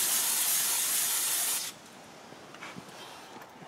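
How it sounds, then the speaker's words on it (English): An aerosol spray can is sprayed into the interior of a 1978 Mercury Marquis in a junkyard: a loud, close hiss lasts about a second and a half and stops sharply, leaving faint background noise with a few small knocks. "spray this shit"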